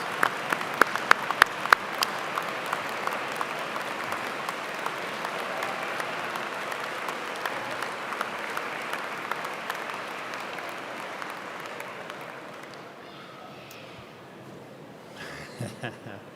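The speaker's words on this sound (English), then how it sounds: "Please join me in a round of applause." Commencement audience at a fall university graduation ceremony gives a sustained round of applause for graduates' supporters, dense steady clapping filling a large hall for about twelve seconds before thinning out and fading, with a brief voice near the end.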